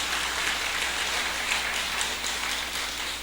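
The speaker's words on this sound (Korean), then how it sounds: "우리 다시 한번 큰 박수 한번 해주시기를 바랍니다." A church congregation at a Sunday morning worship service applauds in a continuous, moderately loud wash of clapping with no talk over it.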